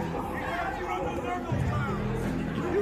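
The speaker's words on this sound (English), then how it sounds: "Listen to this crowd. They are visceral in their reaction." Crowd at a wrestling show, SPW Warpath, a dense steady roar of chatter and reaction throughout, with a louder swell in the second half.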